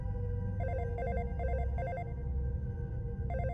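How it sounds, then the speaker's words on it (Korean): A mobile phone ringtone plays a repeating trilling electronic ring in four quick bursts, pauses, then starts again, clear and alone over a low background rumble. "집안에서 A군의 휴대전화 벨소리가 울렸습니다."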